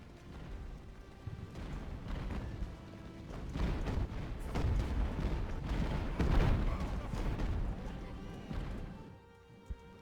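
Mortar and artillery fire during a naval siege battle in the game Ultimate Admiral: Age of Sail, a dense rumbling wash of distant booms and crashes that swells in the middle and then fades.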